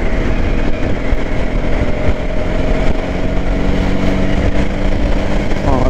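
A new KTM Duke 250 gen3 motorcycle is ridden in track mode, its engine a loud, close, continuous drone with rushing wind throughout.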